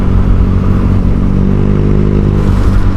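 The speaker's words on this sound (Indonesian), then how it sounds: "Disuruh cobain gimana katanya knalpot barunya kalau orang lain yang bawa" A Honda Vario 150 scooter fitted with a new Kenziro aftermarket exhaust revs loudly up close, a raspy engine note that climbs steadily.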